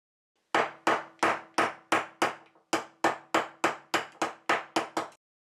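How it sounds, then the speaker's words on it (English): A hammer taps a steel part down level in a machine vise against a steel rule during a Stuart 10H steam engine build: about fourteen crisp, evenly spaced metallic knocks, close and loud, with no talking. "To make sure that the parts are fitted level in the machine vise, I use the method of a steel rule and a hammer."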